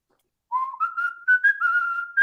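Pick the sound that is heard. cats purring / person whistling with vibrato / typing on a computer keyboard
person whistling with vibrato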